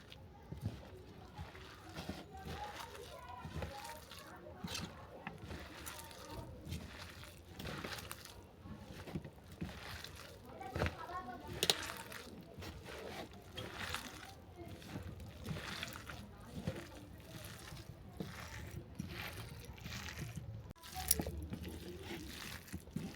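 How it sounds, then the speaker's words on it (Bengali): Drumstick flowers, egg and pakora batter ingredients are mixed by hand without any water, producing soft, wet squelching and sloshing that continues steadily and quietly throughout. "এই সব উপকরণ আমি জল ছাড়াই মেখে নেবো"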